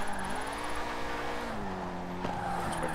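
A car drifting with the handbrake in the racing game Forza Horizon 4, engine tone sliding and shifting in pitch over a continuous tire squeal and skid noise, fairly loud and without talk.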